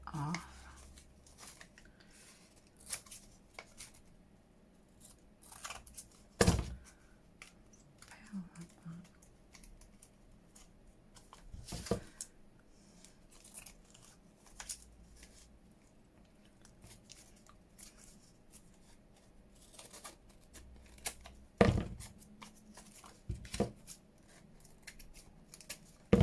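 Scissors snipping through leftover packaging for crafting, a scattered series of close, sharp cuts and rustles spread over nearly half a minute, with occasional talk in between.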